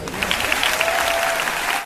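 Audience at a corporate event breaking into steady applause, a dense, loud wash of many hands clapping together, sustained throughout with a faint cheer or voice rising briefly over it.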